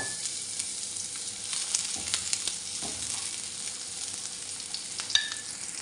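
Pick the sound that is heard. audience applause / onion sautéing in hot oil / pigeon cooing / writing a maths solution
onion sautéing in hot oil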